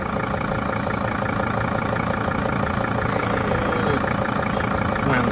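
A Mercedes T1N Sprinter diesel engine settles into a steady, loud idle after a throttle blip, a continuous close rumble with an even, slightly knocking texture and no talking.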